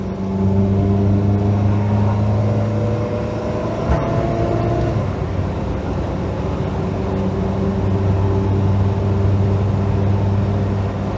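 A 1972 Sunbeam Rapier pulls on the open road, its engine a loud, continuous drone that climbs and holds steady as the car settles near 60 mph.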